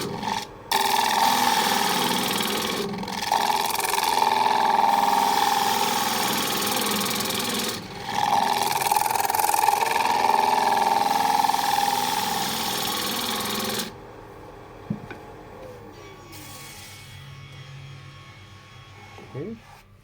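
A wood lathe turns a chestnut bowl while a large gouge cuts, giving a loud, close, continuous rasping whir in long passes with brief pauses, then the cutting stops near the end and someone talks.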